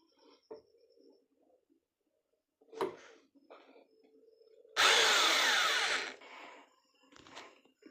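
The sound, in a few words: electric drill boring holes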